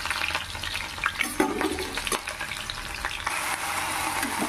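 Food frying in a home kitchen pan gives a steady, crackling sizzle with bursts of spattering and occasional stirring scrapes, close and continuous, growing louder and denser in the final second.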